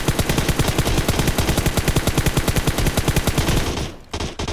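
A fully kitted M4 rifle with a 6x scope fires in PUBG Mobile, unloading a rapid, loud automatic burst of evenly spaced shots that stops abruptly near the end, followed by a couple of softer clicks.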